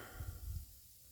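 A garden sprinkler sprays water over dry ground, giving a soft, brief hiss that fades within about a second.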